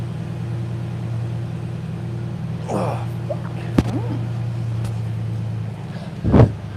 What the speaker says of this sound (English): My dad's got my truck running in the background.